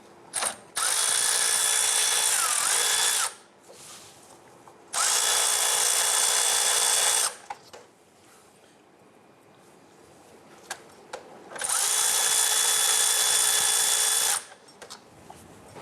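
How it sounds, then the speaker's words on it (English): A power tool with a 17mm socket loosens the belt tensioner bolt on a 1997-2006 Jeep Wrangler, whirring loudly in three sustained bursts with quiet gaps between them. "We're going to use a 17mm socket and we're going to loosen that"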